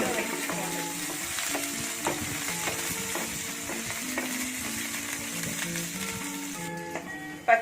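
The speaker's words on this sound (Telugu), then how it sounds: "ఒక 4-5 పచ్చిమిర్చి తీసుకొని ఇలా ఆయిల్లో వేయించుకోండి" Four or five green chilies frying in hot oil, giving a constant crackling sizzle with repeated clinks and scrapes from a stirring spoon, ending on a louder knock.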